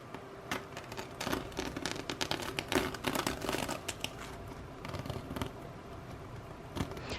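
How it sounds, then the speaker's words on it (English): Glitter heat transfer vinyl peeled downward from the top left of an embroidered applique, its stitch perforations tearing in a steady run of close, dry crinkling and crackling. "I like to start in the top left corner and just peel downwards."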